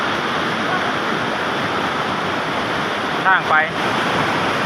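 Tat waterfall roars with a steady, loud broadband rush of falling water, continuous throughout, with a brief voice heard near the end.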